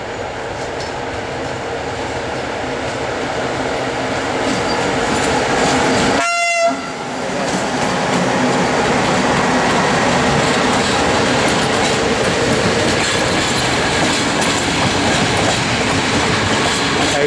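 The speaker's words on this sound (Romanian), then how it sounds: "Stai, taci o leacă 10 secunde ca să treacă locomotiva." An electric locomotive hauling a long InterRegio passenger train passes close by a footbridge at Burdujeni, Romania, with a loud, continuous rumble and rattling wagons, a brief horn-like tone cutting through midway.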